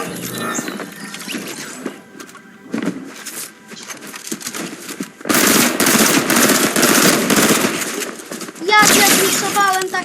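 Bursts of rapid video-game gunfire, loud and repeated, with short pauses between volleys and excited Polish-speaking voices talking over parts of it.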